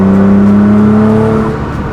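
A stage 2 tuned Nissan GT-R accelerating in fourth gear on a highway, its loud steady engine drone with clear rising harmonic tones heard from inside the car, no voices.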